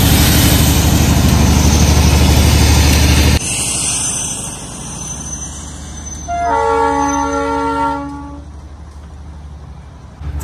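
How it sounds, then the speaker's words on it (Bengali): The Darjeeling toy train near Ghum Monastery, on a misty, drizzly hillside: loud rumbling engine and rolling cars close by give way to a long, bright horn toot, then the rumble fades. "চলো দর্শন পেয়ে গেলাম দার্জিলিং এসে টয় ট্রেনের"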